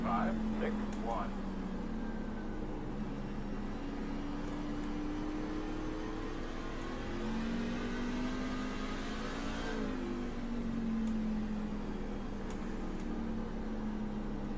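Race truck engines at North Wilkesboro drone steadily throughout, a sustained mid-pitched roar whose tone slowly rises and falls as the trucks run laps, loud and continuous with a faint voice underneath.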